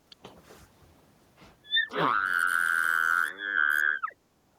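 A short whistle leads into a buzzy, rasping lip sputter that holds for about two seconds, a voice imitating an elk's call.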